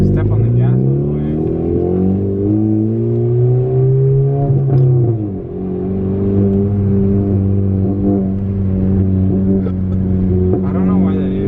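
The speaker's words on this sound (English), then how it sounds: "we're gonna give it a little gas with the base map that I got from K Tuner" A car with a catless downpipe running a base tune revs steadily, its loud droning engine tone rising and falling over about ten seconds with a brief dip midway.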